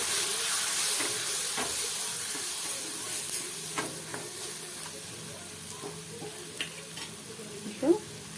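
Tomatoes with chili powder are sautéed in a pan for a dried-fish thokku, giving a steady soft sizzle and hiss with occasional light scrapes and clinks of a stirring spoon.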